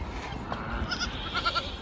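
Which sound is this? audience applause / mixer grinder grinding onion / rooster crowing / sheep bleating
sheep bleating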